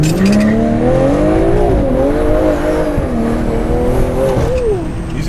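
Stock BMW M340i launching with its rear tires spinning, a loud close engine note rising and wavering at high revs over steady tire roar for about five seconds.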